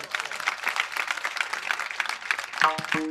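Audience at a kirtan bursts into applause, many hands clapping in a dense, fast, even patter that carries on for a few seconds in a large gathering, with a brief instrumental tone near the end.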